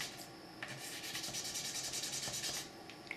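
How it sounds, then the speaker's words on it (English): Sandpaper rubbing back and forth over a Colt 1911 trigger component laid on a flat surface, a steady close scratchy rasp of repeated strokes with no talk. "we're just polishing it up a little bit more"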